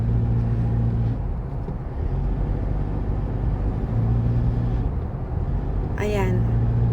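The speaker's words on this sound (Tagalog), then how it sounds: "Kahit maraming sasakyan pero hindi magulo." Busy city road traffic abroad, a steady rumble of cars and buses passing close by with an engine drone, a brief high squeal near the end, and a person talking over it.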